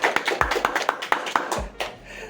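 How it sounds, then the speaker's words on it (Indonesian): A small audience clapping in uneven, brisk bursts, close by, with separate slaps clearly audible rather than a dense roar. "Rame banget ya tepuk tangannya mas."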